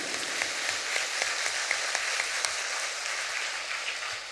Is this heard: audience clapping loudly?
yes